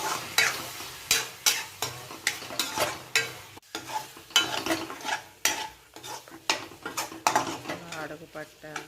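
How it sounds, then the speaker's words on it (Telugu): Prawn fry being stirred in a pan over a low flame, with repeated scraping strokes of a spatula against the metal over a steady sizzle, close and fairly loud, no talking. "అడుగు పట్టేంత వరకు ఫ్రై చేస్తూనే ఉండాలంతా లో ఫ్లేమ్లో జరుగుతుంది."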